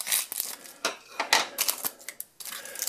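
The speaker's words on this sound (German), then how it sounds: "die muss ich wieder mit der Schere öffnen." Scissors snip open a Teenage Mutant Ninja Turtles trading card booster pack close up, giving a quick run of short, crisp cuts mixed with foil wrapper crinkling.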